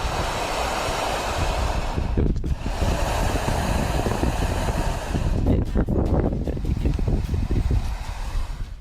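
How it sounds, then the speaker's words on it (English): Wind rushes through a construction tunnel for a pipe on a windy day, a continuous loud roaring, whooshing rumble with gusting surges and hollow, ocean-like swells. "just wind rushing through some kind of construction tunnel for a pipe or something"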